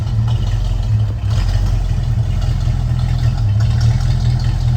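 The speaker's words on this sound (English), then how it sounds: "Exhaust sounds real nice." A 1973 Ford Mustang convertible's V8 engine idles with a deep, steady exhaust rumble, loud and close, with a slight dip in the rhythm partway through.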